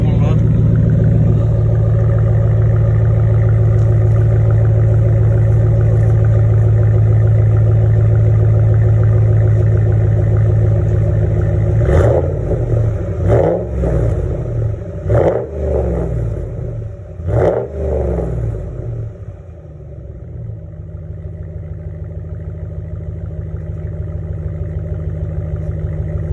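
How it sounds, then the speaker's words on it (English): A Ram with a 5.7-litre V8 Hemi idles with a deep steady exhaust rumble, then gives four quick revs in a row through the exhaust before settling back to idle, close and loud. "So we'll do some quick revs."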